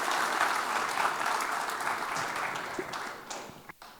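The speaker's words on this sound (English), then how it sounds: "Give him a round of applause." Audience applause fills the room, steady and dense clapping that fades slightly toward the end.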